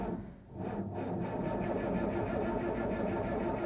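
A dozer engine cranks and catches, then settles into a steady, close mechanical idle with a dense, even chug, alone without talk.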